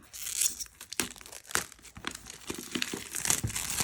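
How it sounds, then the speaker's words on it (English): Plastic shrink wrap is crinkled and torn off an oracle card deck, close and loud, in irregular crackling bursts with sharp tears. "So let's unbox this to get rid of the plastic that we don't want."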